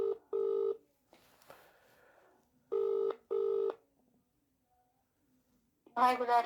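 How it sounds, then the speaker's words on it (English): Two pairs of telephone keypad tones with a brief muffled rustle between them, followed by the start of a ringing tone at the end. "ringing up Sunningdale care home."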